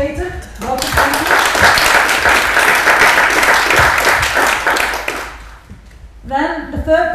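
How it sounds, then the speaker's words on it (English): Loud, dense applause from an audience at a university social design award pitching session greets a person named Peter. It runs for about five seconds, then drops away as a speaker's voice returns. "So again, a big applause for Peter."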